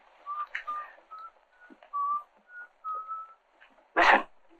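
A person whistles the tune Yankee Doodle as a signal, a series of clear short melodic notes at moderate distance, followed by a brief sharp noisy burst near the end.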